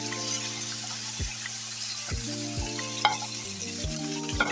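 Small chicken cubes frying in hot oil in a wok, a bright continuous sizzle with occasional clanks and scrapes of stirring, close and fairly loud.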